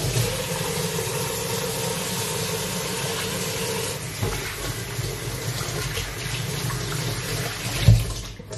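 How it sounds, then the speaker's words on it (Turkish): A tap running while hands are washed at a sink: a steady close rush of water that thins slightly midway, with a soft thump near the end. "Şu ellerimi bir yıkayayım."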